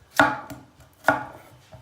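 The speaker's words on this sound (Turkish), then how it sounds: "Şimdi diğer malzemeyi doğrayacağız." Two sharp knife chops through vegetables on a cutting board, spaced about a second apart, each followed by a faint lighter tap, close and clear.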